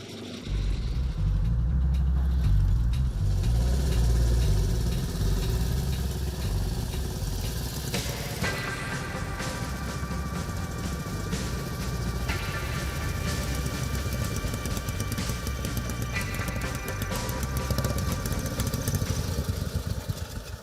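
Vintage Terrot motorcycles, built in Dijon in the 1930s, run together in a steady, loud engine drone. It holds throughout with no pauses, and later there are some higher revving tones.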